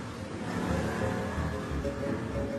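A handmade sports car styled after an aircraft wing roars with a deep, steady engine drone likened to a jet, loud and continuous throughout with no voices.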